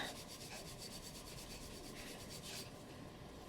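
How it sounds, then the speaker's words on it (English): A hand rubs olive oil onto a surface in steady back-and-forth strokes, producing a soft, continuous swishing friction that is close and fairly quiet. "Just dabbing a little bit to spread out all the olive oil, and then just start rubbing."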